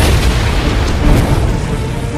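A deep, rumbling explosion in an Indonesian film about a citywide power blackout, a dense continuous roar of low boom and broad noise that stays loud and sustained for the whole stretch without any voices.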